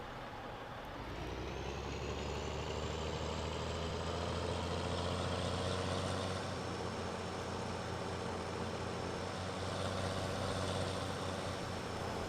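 A Big Bud 500-horsepower tractor engine in Farming Simulator 17 revs up from quiet and settles into a loud, steady, droning rumble while cultivating, heard alone and close.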